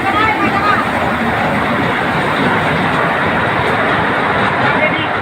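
A train rolls past at close range, a loud, continuous rumble and rush of wagons holding steady for the whole stretch without a break.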